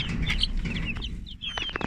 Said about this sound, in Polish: O, a tutaj siedzą sobie kurczaki.